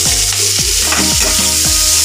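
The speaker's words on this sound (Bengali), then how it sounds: "পেঁয়াজটা হালকা বাদামি করে ভাজতে হবে" Chopped onions fry for a crab curry, hissing loudly and steadily in hot oil in a pan, close up, with a few stirring scrapes cutting through the sizzle and no talking.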